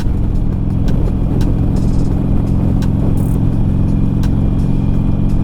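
Harley-Davidson Sportster motorcycle engine while riding in winter in the Black Hills, a steady close, loud low rumble with wind noise running throughout.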